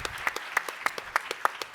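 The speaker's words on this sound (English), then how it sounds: "let's give Eric a round of applause, ladies and gentlemen" A small audience at a student ambassadors' sports-initiative pitch event claps for a student, with faint, sparse, evenly spaced claps of roughly five or six beats in a steady rhythm.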